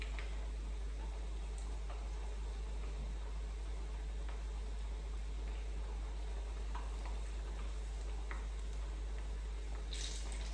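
Small pieces of pressed tofu fry in oil filled halfway up the pan for agedashi tofu, giving a steady, even sizzle with occasional faint ticks and pops.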